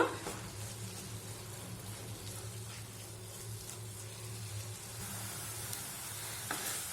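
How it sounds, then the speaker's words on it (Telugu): Dantu aaku greens frying in a pan over a medium flame, giving a soft, steady sizzle with a faint low hum underneath and no talking. "ఈ ఆకుకూరలో ఈ వాటర్ అంతా ఇంకిపోయే వరకు మీడియం ఫ్లేమ్లోనే ఇట్లా ఫ్రై చేసుకుంటూ ఉందాము"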